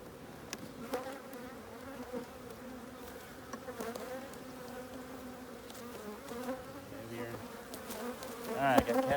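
Honeybees buzzing around an open hive during spring beekeeping, a continuous close droning hum with individual bees passing near, swelling louder toward the end.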